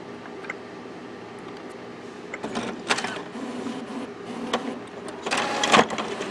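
A Brother inkjet printer running a nozzle check, its print head shuttling with a steady mechanical whir broken by sharp clicks and clacks that grow louder toward the end.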